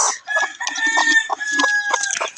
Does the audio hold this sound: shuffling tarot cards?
no